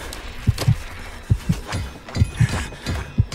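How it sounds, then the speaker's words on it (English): In a Roblox Five Nights at Freddy's game, a heartbeat effect repeats as paired thumps in a steady rhythm, loud and close, with no talking. "my heartbeat is so bad"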